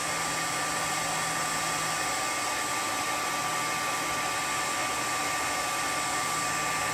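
A hair dryer blows steadily for the whole stretch, a loud broadband whoosh with a constant motor whine, used here to spin-dry a button resting on top of it.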